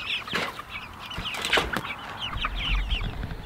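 Meat chickens in a movable chicken tractor cluck and chatter. There are several overlapping calls and a brief flutter of wings, close by and moderately loud over outdoor background noise.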